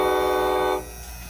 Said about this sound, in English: So Atlas trains, N scale